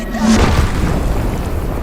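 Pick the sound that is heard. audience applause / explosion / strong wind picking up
explosion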